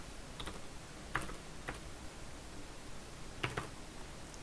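Sparse, quiet clicks of typing on a computer keyboard, a few isolated keystrokes spaced out over a few seconds against faint background hiss.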